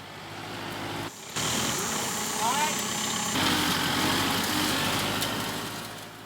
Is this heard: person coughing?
no